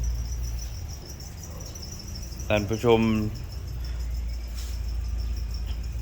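Crickets kept in plastic tanks give a steady, high-pitched chirring that runs continuously under a short stretch of someone talking partway through.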